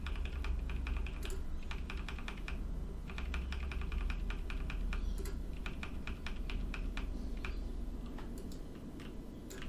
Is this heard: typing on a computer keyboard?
yes